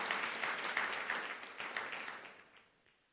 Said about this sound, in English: Ash, we walk her to her seat with a round of applause.